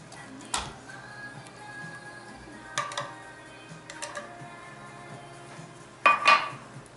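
Canned sardines being laid out onto a dish: a few sparse clinks and taps of metal against tableware, quiet and close, with the loudest clatter near the end.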